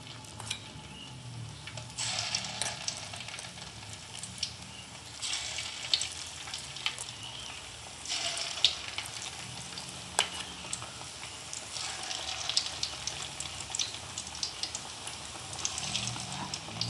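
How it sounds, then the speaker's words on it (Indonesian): A tempeh and egg mixture fries in hot oil in a pan, a steady close sizzle lasting throughout, with occasional louder bursts and scraping stirs. "Goreng sampai kuning keemasan"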